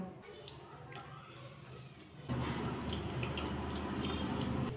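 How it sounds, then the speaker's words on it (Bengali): Juice from a spinach paste is strained through a sieve, starting as a faint trickle and becoming a louder, steady stream of liquid partway through. "এবার এই ছাঁকনিটা দিয়ে পালং শাকটা রসটা বের করে নেব।"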